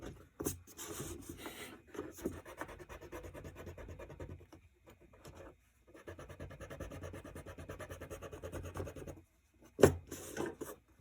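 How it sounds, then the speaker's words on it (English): An eraser rubbing out pencil lines on paper, long rasping back-and-forth scrubbing strokes in several bursts with short pauses, close and quiet. "we need to erase the unnecessary lines here"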